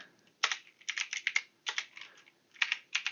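Rapid bursts of keystrokes on a computer keyboard as a terminal command is entered, clustered in quick runs with short pauses, close and clear with no voices.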